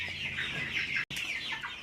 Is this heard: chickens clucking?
yes